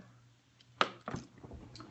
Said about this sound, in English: Let me get a drink of water here.